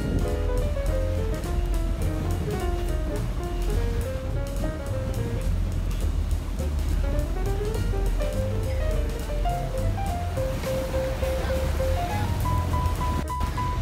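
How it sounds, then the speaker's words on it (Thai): Open-sea waves and wind wash steadily around a yacht off Pattaya, a continuous broad rush heard from on board under clear background music. "คลื่นลมกลางทะเลครับนี่ลมกำลังพัดเข้าไปที่ฝั่ง"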